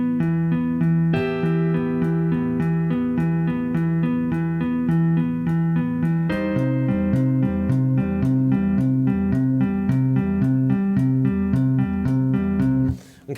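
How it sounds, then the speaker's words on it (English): Slowed-down guitar tapping section, two guitars tapping together as the band joins in. Steady, repeating ringing note patterns shift to a new figure partway through, then cut off abruptly at the end. "the next part is where me and Travis come in together for the tapping section where the band joins in together"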